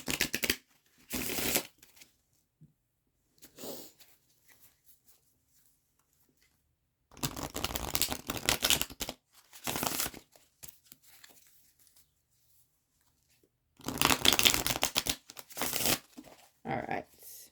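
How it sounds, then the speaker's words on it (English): A deck of tarot cards is shuffled by hand in several separate bursts of riffling and rustling, each lasting a second or a few seconds, with stretches of quiet between them and no talking. "Let's shuffle these back up a little bit."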